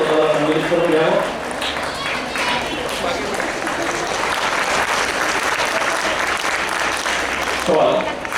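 Sustained, loud audience applause at a college felicitation ceremony honouring a chief guest, a dense clatter of many hands lasting several seconds, with a voice briefly audible at the start and end.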